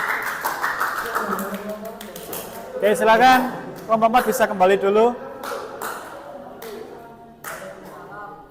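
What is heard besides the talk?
class applauding a group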